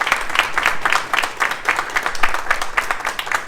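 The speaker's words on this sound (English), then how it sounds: "Round of applause for that." A small outdoor crowd applauds at a City Hall flag raising for Transgender Day of Visibility, with sparse, uneven hand claps pattering steadily for a few seconds.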